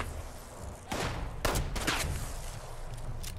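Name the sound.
gunfire in the Fallout 76 video game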